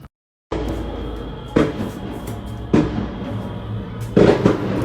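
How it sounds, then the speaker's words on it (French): Fireworks go off at night, several sharp booms spaced a second or so apart over a continuous crackling, rumbling background. "pour mon anniversaire, il n'y a pas autant de feux d'artifice"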